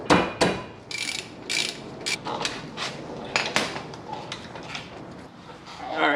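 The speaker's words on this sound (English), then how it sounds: "So I'm going to take out the top guide pin, also the 15 millimeter." Ratchet turning a 15 mm brake caliper guide pin on a Cadillac Deville, rapid close clicking in repeated bursts with occasional metallic clinks.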